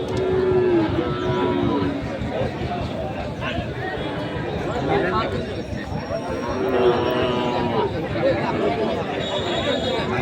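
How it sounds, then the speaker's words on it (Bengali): Sahiwal breed bull calves at the busy rural Ambari cattle market, with several moos rising over constant crowd chatter and nearby talking. "আমবাড়ি হাটের যে সাইবল জাতের বাছুর প্রায় বিক্রয় করা হচ্ছিল"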